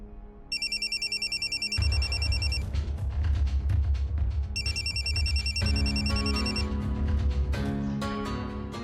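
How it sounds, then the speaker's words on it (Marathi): A telephone rings in repeated electronic bursts, loud and close, over a steady rhythmic musical backing. "वासूचा फोन."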